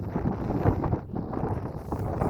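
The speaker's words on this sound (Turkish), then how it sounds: "Ne bileyim rüzgar olmazsa daha güzel olur." Steady wind in Emirli village rumbles against the microphone, a loud, continuous low roar that swells and dips slightly throughout.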